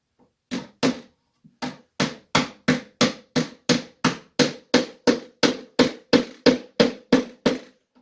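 About seventeen sharp metallic hammer blows driving fencing staples into a wooden 220 trap cubby in a steady, quick rhythm, close and loud, with a couple of pauses early on.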